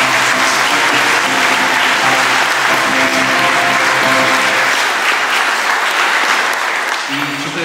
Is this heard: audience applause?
yes